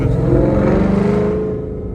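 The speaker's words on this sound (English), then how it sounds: "doing a kind of little drive right now so you guys can hear this exhaust" A loud, deep exhaust from a 2013 Ford Mustang Boss 302 rumbles up close as the car drives, the growl fading slightly toward the end.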